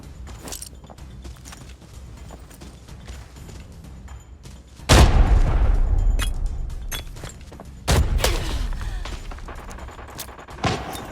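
A sudden loud grenade blast booms out amid scattered gunfire and clatter in the video game Arena Breakout, followed by a second heavy explosion a few seconds later.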